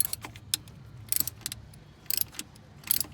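A socket wrench working a thermostat bolt loose on a 2.4L dual VVT engine, giving short metallic ratcheting clicks in small bursts with pauses between, close up and fairly quiet.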